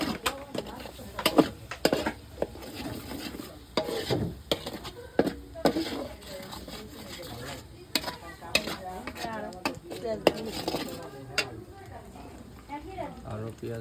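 Goat meat and spices are stirred and fried in a pot over a village clay stove, with repeated scraping and clattering strokes of the spoon against the pot under a faint sizzle while a person talks throughout.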